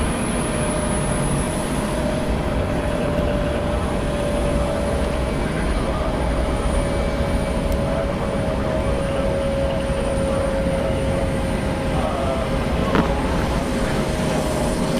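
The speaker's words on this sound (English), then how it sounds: "Departing Delta Connection operated by SkyWest Airlines Flight 4151 going to Charleston. It's a Mitsubishi CRJ 900LR, 15 years old." A 15-year-old Delta Connection Mitsubishi CRJ900LR jet operated by SkyWest departs Atlanta Hartsfield-Jackson, a steady engine roar with a sustained high whine holding at moderate distance.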